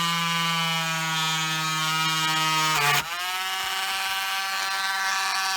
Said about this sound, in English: we'll just ease this small drill through